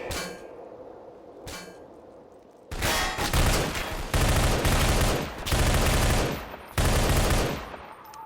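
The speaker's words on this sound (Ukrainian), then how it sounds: "Ось там буде кулемет один. Дуже небезпечний." Heavy automatic gunfire from a machine gun in the first-person shooter Entropy Zero, loud close bursts of rapid rattling shots in several long volleys, preceded by two brief metallic clangs.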